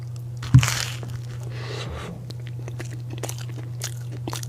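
Someone eating their favourite food bites down with one sharp, loud crunch, then keeps chewing with softer crunches over a steady low hum.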